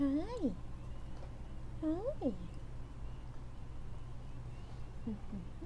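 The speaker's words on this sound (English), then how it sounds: "I don't know if you guys can hear her meowing." A house cat meows indoors in a few short, faint rising-falling calls spread apart, with a low steady hum underneath and a person speaking briefly.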